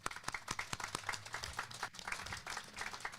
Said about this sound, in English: Okay, applause for Carol